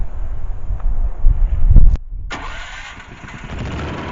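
A Predator 9000 watt generator engine, choked, cranks with a rising mechanical rush, cuts out briefly, then catches and settles into a steady, fairly loud idle running close by.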